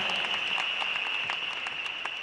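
Applause from a large audience at a speaker event in Bukit Jalil stadium, heard as a soft, diffuse wash of clapping spread across a big space, steady and fairly distant.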